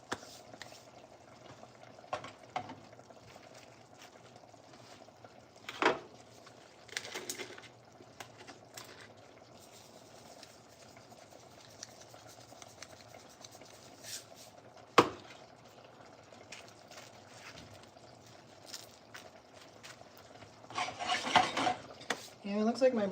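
Braised seitan in a pot being stirred, heard as quiet intermittent scraping and rubbing with a few sharp knocks against the pot over a faint steady background hum, growing busier near the end.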